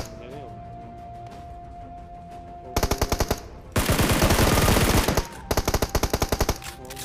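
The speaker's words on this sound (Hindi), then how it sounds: "मेरे टीममेट को मिल जाती है M4 और वो सीधा बंदे की पेटी बनाना शुरू कर देता है" Video game gunfire from a Scar-L and an M4 in PUBG Mobile: rapid automatic bursts, with a short volley, then a longer sustained stream, then another burst, loud and close, over a steady background tone, with a voice talking throughout.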